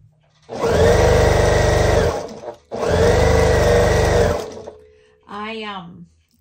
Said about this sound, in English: And sew a few more of these, get them through the machine